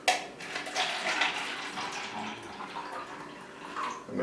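Sweet tea poured into a cup, a continuous liquid splash and trickle running for a few seconds with a brief clink at the end.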